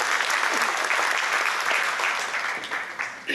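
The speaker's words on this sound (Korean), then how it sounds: "집사님께 한번 격려 박수 한번 하도록 하겠습니다." A church congregation claps in encouragement for a deacon at a lay-training graduation service, loud continuous applause filling the whole stretch and tapering slightly at the end.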